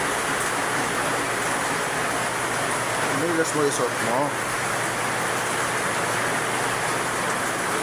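Heavy typhoon rain pours steadily outdoors, a dense, loud, continuous hiss throughout, while children play in it and a voice speaks briefly over the downpour.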